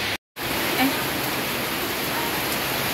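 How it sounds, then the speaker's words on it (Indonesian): Rain falling outside a house in a narrow lane in Palembang, a steady wide hiss of downpour that cuts out for a moment near the start before resuming evenly. "Lagi di luar tuh lagi hujan."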